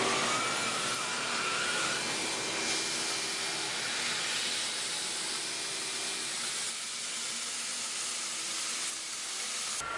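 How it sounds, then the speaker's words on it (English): A vacuum at a woodturning lathe runs steadily for the whole stretch, a loud, close, even broadband hiss with a faint underlying hum and no clear start or stop; no one talks. "then I'm going to turn on the vacuum"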